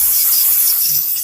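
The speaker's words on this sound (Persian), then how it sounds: "با استفاده از کمی اسپری انژکتور شور" A loud, close burst of injector cleaner spray hisses steadily onto car spark plugs.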